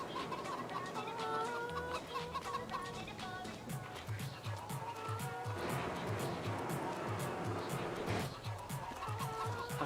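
Game chickens in Farming Simulator 22 cluck continuously in a busy barnyard mix, with repeated short clucks layered over a low rhythmic background and no one speaking.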